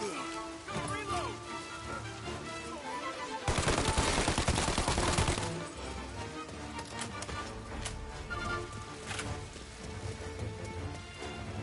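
Video game firefight with rapid machine-gun bursts and scattered gunshots, a dense crackling volley in the middle, under occasional shouted voices.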